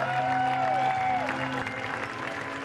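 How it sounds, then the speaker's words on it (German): An audience at the Schaubühne Berlin applauds after a performance of Amphitryon directed by Herbert Fritsch, a dense, continuous wash of clapping under sustained tones that may be music. "Für ihre Arbeit bekommen Fritsch und das Ensemble ungefähr 20 Minuten lang Applaus."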